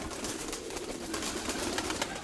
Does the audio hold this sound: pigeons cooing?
yes